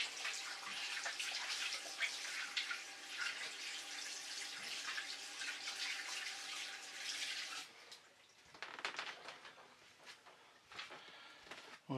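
Tap water runs steadily as hands are washed at a sink for about eight seconds, then the flow cuts off, leaving quieter splashes and drips.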